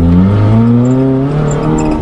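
A 1992 Talon being driven hard, its engine droning loud and steady with a rising and falling pitch, plus some squeaks close by, and no talking.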